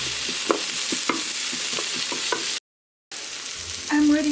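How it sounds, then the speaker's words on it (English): Pork loin browning in a pan for a crock pot pork loin with potatoes, giving a steady close sizzle with soft scraping stirs; the sound breaks off briefly, then resumes with a fuller sizzle and a few higher clinks. "And this is browning."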